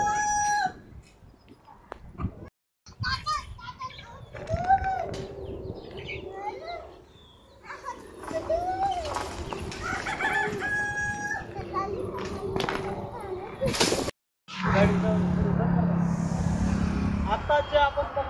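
Country gavran roosters on a farm crow and cluck in a steady mix of calls, with people talking over them throughout.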